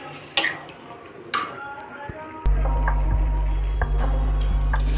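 A spoon stirs tomato curry with capsicum and cauliflower in a pot, making a few sharp clinks and scrapes against the metal, first alone and then over a steady low hum.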